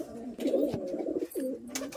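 A male pigeon held up for sale gives close, low throaty coos in a couple of rolling phrases, fairly clear with little else around.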